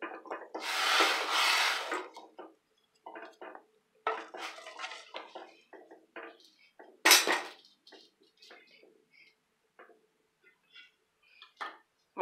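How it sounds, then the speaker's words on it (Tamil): A spoon handle scrapes and clinks against a pot while chapati flour is stirred into just-boiled salted water, giving soft rubbing strokes and intermittent metallic taps at close range. "இப்படி கரண்டி காம்பில் கலந்துடலாம்."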